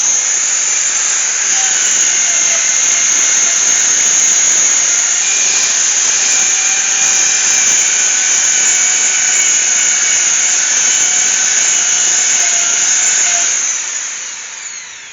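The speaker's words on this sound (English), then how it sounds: "I go in there now with my sander and just sand it all down" A power sander with 80-grit paper smoothing a turned and carved oval beech wood bowl: a loud, continuous high-pitched motor whine with a gritty rasp that runs steadily, then winds down near the end.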